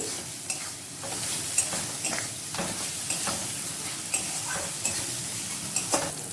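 Mutton masala sautéing on medium heat for a curry, a steady close sizzle with repeated stirring and scraping strokes in an irregular rhythm, no voices.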